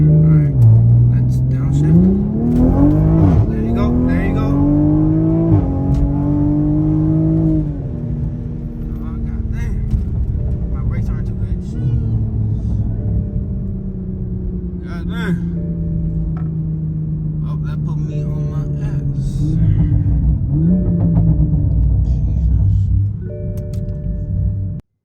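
Toyota Supra with a stock turbo and downpipes revving hard as it downshifts, engine pitch sweeping up and down repeatedly in close, loud bursts, with someone talking over it.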